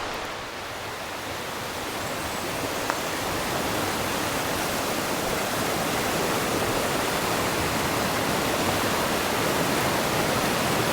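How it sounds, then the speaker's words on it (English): Franconia Falls in the White Mountains, a broad, constant rush of falling water that swells slightly and then holds steady, close and loud, with no voices. "Looking forward to see what the waterfall has for us."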